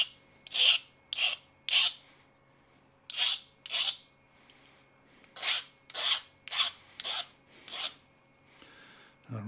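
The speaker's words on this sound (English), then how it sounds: "And deburr the pieces that we want to use." Cut metal pieces are deburred with a file, a dozen or so short, sharp rasping strokes in uneven bursts, close by with no voices.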